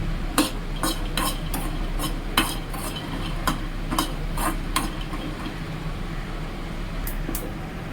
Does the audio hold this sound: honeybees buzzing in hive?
no